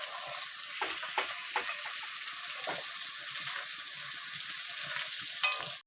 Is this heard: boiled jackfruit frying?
yes